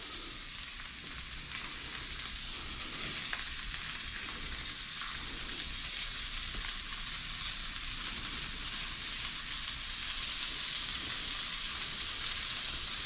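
Onions fry in a pan after pork chops have been cooked in it, giving a steady close sizzling hiss throughout with faint stirring, no voices.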